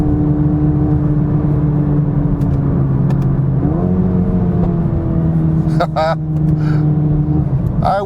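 Exhaust of a Mercedes-AMG A35 4Matic hatchback droning steadily up close, then lifting on a rev before a burst of sharp pops and crackles toward the end.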